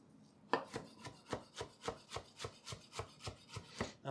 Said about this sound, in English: That's a little handful. We're going to chop this up.